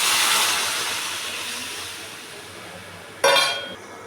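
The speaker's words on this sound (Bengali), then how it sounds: "গরম জল করেছি সেটা দিয়ে দেবো।" Hot water goes into fried spice masala in a pan for a curry. A broad hiss fades over a few seconds, then a sharp sizzling burst erupts and dies away.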